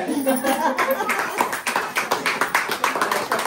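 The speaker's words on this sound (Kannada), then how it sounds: "ಚಪ್ಪಾಳೆ." A crowd claps steadily at an indoor Varamahalakshmi celebration with clinic members, a dense run of hand claps at moderate volume throughout.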